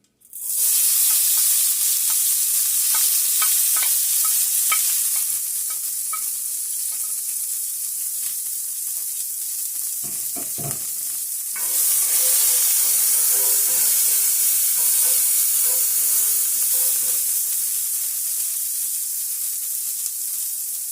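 Fresh ingredients for meatballs hit hot oil and burst into a loud, bright sizzle that hisses on steadily, with faint stirring clatter and a brief dip before flaring up again.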